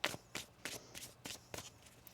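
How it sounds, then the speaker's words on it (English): Tarot cards riffled in a shuffle, a quick run of about seven crisp, evenly spaced flutters close up, with no talk over them. "One more shuffle here."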